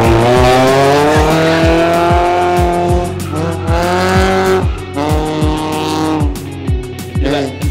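A modified Lancer EX 2.0 races a stock car, engines loud and close with repeated revving surges and gear-shift dips, a steady rhythmic pulse running throughout, tire noise under occasional voices.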